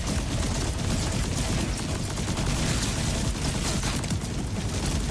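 Relentless barrage of missiles firing and exploding in Borderlands 4, a loud, dense, continuous roar of booms and crackling blasts with no pause, no voices.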